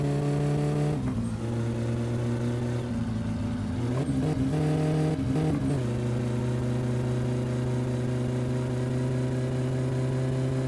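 A car engine in the driving game My Summer Car revs repeatedly in short bursts over a steady idle drone, loud and close, without any talking.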